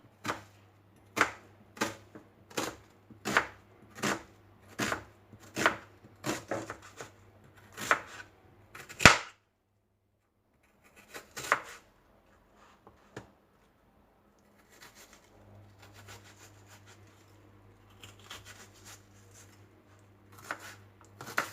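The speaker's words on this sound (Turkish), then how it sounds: "soğanı ince ince doğruyorum" A knife finely chopping onion on a board while making lentil soup: about a dozen crisp, evenly spaced strikes, then a pause, then sparser and softer taps. The sound is close and quiet with no talk.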